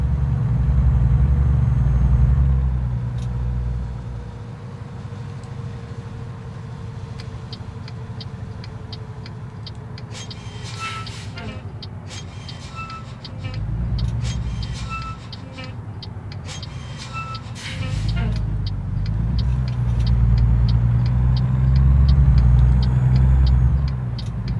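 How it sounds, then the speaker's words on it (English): A truck engine in American Truck Simulator drones steadily and loudly throughout, with low rumbling that rises and falls as it revs and shifts gears, and faint clicks over it. "I'm just kind of listening to the engine sounds."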